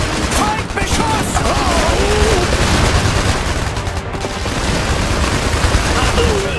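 Dense, continuous gunfire rattles through a World War battle in the video game Iron Harvest, with overlapping bursts blending into a loud, steady roar and shouted voices calling out over the din.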